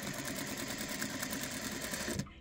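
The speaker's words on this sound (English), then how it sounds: "So I'm just going to stitch right along here, right down the center." A sewing machine stitches straight down the center of joined fabric pieces, a fast, even, close mechanical whir that cuts off abruptly just before the end.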